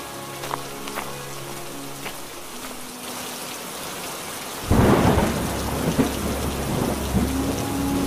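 A rainstorm in a cartoon: steady rain at first with faint tonal sounds, then a loud close thunder crash breaks in, followed by heavier rain and rumbling that go on to the end.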